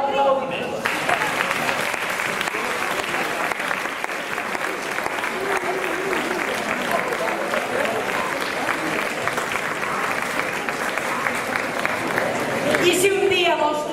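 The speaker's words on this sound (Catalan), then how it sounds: "T'acomiada per aquí i aquest fort aplaudiment." A crowd at a folk spoken-dance performance gives a long, loud, sustained round of applause, dense clapping that holds for many seconds, with voices rising briefly near the end.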